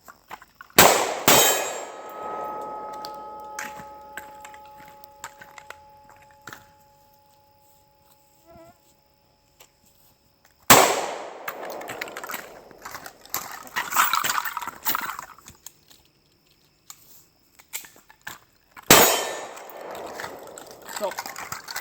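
Pistol shots ring off an IPSC steel target in a few widely spaced bursts, each a sharp crack followed by a bright metallic clang and ringing decay, with quiet gaps between.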